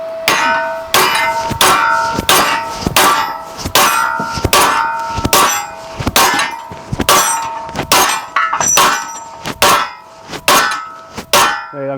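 A hammer repeatedly striking a welded steel box section during a bend test, a loud ringing clang every half second or so, metallic and close, with no talk.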